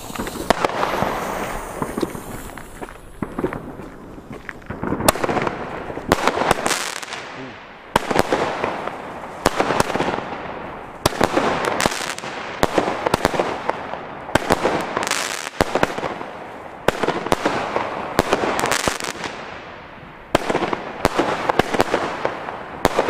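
A Keller Airforce firework battery fires a rapid series of shots outdoors, sharp thumping launches and crackling bursts repeating in an uneven rhythm for over twenty seconds, loud and close, with no talking.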